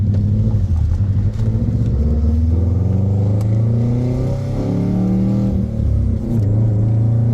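A 2004 Subaru WRX STI's stainless steel exhaust rumbles steadily and loud from inside the cabin, the engine note rising and falling as the driver accelerates and shifts the 6-speed manual.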